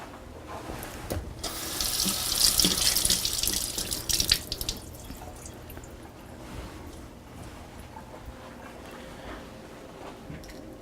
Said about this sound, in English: And I'm going to rinse them.